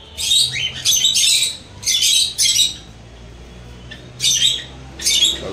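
Shrill squawks and chirps from caged cockatiels, budgerigars and Java sparrows in an aviary come in loud bursts with short pauses between, several calls overlapping up close.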